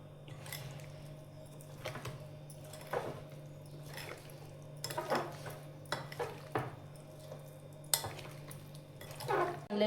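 A spoon stirs and scrapes through a marinade in a bowl for pizza topping, giving repeated light clinks and wet squishing sounds at an irregular pace, fairly close but quiet.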